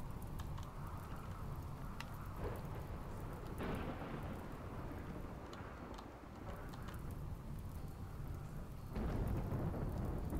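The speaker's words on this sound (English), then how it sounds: "Oh, the fucking rain's coming in." Steady rain and rolling thunder in the colony-building video game RimWorld, a dense continuous downpour with low rumbles swelling near the end, no talking.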